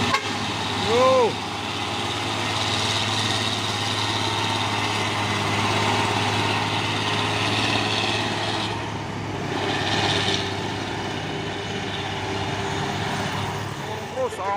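Pusoren truck engine droning steadily with a whining tonal hum and low rumble, rising slightly in the middle, with people talking over it now and then.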